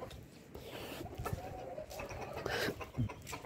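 Hens clucking in a backyard pet setup kept alongside pigeons and aseel birds, several soft close clucks and murmurs scattered across the clip with rustling in the background.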